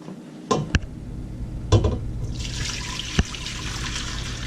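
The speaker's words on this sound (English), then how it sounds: "I'm gonna pour the broth back over into the bowl." Chicken broth pours from a pot back into a bowl in a home kitchen, a steady splashing liquid pour that builds after a few knocks and clatters, close and fairly loud, with no talking.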